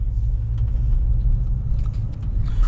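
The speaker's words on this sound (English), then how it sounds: "What we're doing, we're trying to wear the shoes in, so we're driving with the handbrake on." A Volvo (V70, S60, S80 or XC70 type) rolls along with its handbrake engaged to bed in new rear brake shoes, giving a steady low drivetrain rumble with faint scraping and ticking, no voices.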